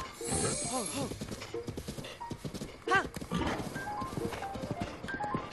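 In Breath of the Wild, Zelda's horse gallops with rapid hoofbeats and snorts, a whinny rising midway, while someone talks over it in Turkish.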